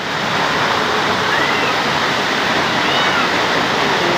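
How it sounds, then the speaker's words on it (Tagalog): Heavy rain pours down steadily during a flood at a house where water is rushing inside, a dense, constant roar of close downpour that fills the whole clip without a break. "Ang lakas pa ng ulan!"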